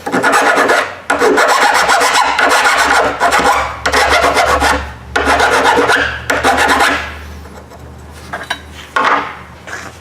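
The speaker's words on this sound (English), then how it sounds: "and deburr that a little bit." A hand file rasps steadily over sheet metal to deburr a Harbor Freight four-drawer tool cart, loud close strokes in a quick rhythm that slow and thin out toward the end.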